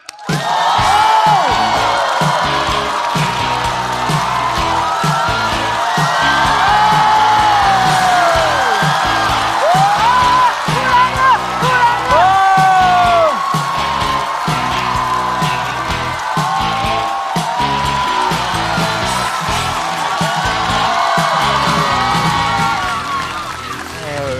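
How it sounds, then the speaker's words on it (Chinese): A large audience at a stand-up comedy competition show whoops, yells and cheers to welcome comedian Hulan onto the stage, with a loud, continuous crowd roar sustained for the whole stretch. "掌声欢迎呼兰"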